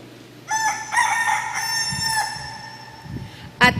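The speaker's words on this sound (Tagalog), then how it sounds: "tinalaw kya ing manok" A rooster crows nearby: one long, loud, harmonic cock-a-doodle-doo that rises and holds for nearly two seconds, followed by a short sharp burst of another call at the end.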